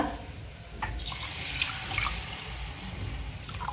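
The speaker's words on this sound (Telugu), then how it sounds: "బియ్యాన్ని రెండుసార్లు శుభ్రంగా కడిగిన తర్వాత" Running water splashes and trickles steadily as rice is rinsed in a bowl under a tap, with occasional sharper splashes and no talking.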